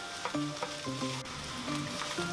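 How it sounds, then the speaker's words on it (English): Fried rice with soy sauce, carrot and onion sizzles steadily in a wok, with scraping stirs over a constant frying hiss and soft background music. "And now just break up your rice and stir the soy sauce and the carrot and the onion and everything into the rice"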